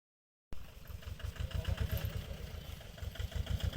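A tractor engine runs steadily at a paddy threshing site, its close, loud chugging rumble starting abruptly and continuing with a fast, even clatter.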